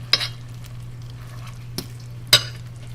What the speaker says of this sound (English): It's nice slow cooking.